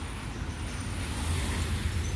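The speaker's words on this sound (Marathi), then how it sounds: "मोठे मोठे गाड्या जातात आता" Large vehicles such as trucks and buses rumble past on a road in the Konkan countryside, a steady low roar of engines and tyres holding near and loud throughout, with no talk.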